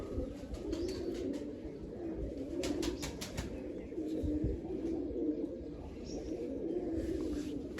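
Pigeons coo steadily in a loft where they are kept and fed, a soft continuous murmur of overlapping calls with a few brief sharper sounds mixed in, no voices present.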